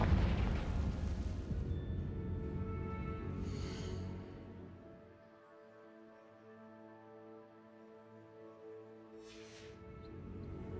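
A Confringo fire spell from Hogwarts Legacy bursts open a container in a dungeon room, a loud rumbling blast with crackling debris that tails off into a quieter resonant hum, followed by a second fainter burst near the end.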